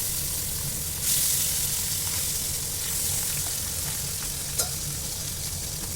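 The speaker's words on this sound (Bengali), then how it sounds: "বাকি মাছগুলো আমি এই তেলের মধ্যে দিয়ে দিচ্ছি" Pabda fish sizzle in hot oil in a pan, a steady close crackling hiss with a few brief spits, no talk.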